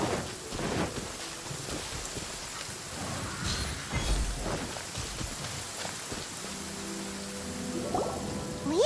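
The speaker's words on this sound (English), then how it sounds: "I love listening to the rain from the courtyard." Steady rain pours over a courtyard in Genshin Impact, a dense continuous hiss broken by low rolling thunder and scattered nearby drips and patters.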